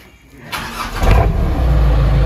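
A truck engine rumbles on a road in Indonesia, its low drone swelling louder and closer over a couple of seconds and then holding steady and strong.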